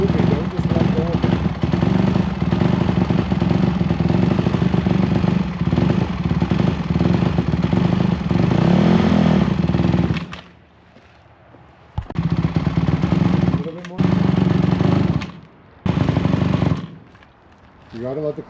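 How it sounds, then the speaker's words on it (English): A motorbike engine runs loudly and roughly close by as the rider slowly eases out the clutch, then drops away into quieter gaps broken by short revving bursts, with voices talking over it. "Like you should still be holding that clutch as the bike is rolling forward."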